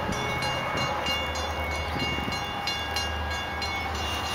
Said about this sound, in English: it seems like every time we shoot around here, there's a train.